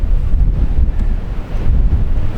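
Strong wind buffets the microphone outdoors beside a flooded river near a village, a constant low rumbling roar that swells and dips for the whole stretch with no voices.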